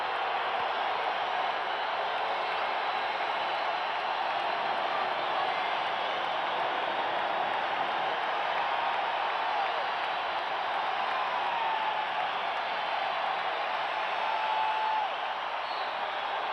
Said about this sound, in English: This crowd trying to get the Bulls going right here.